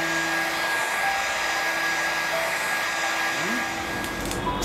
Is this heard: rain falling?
no